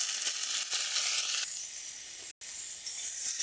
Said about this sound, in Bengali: গোটা রসুন, দুটো কাঁচা লঙ্কা আর একটু কাটা টমেটো দিয়ে অল্প একটু ভেজে নেব